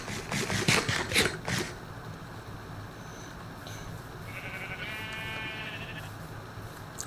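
A Minecraft sheep bleats once, a short wavering call heard clearly over low ambient game noise, after some brief clattering at the start.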